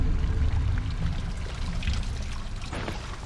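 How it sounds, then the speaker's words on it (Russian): Water pours from a gargoyle mechanism in the video game Battle Chasers: Nightwar, a short, soft gush and trickle that stays fairly quiet and steady. "Вы слышите звук воды"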